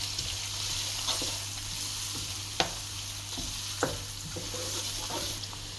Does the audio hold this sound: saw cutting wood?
no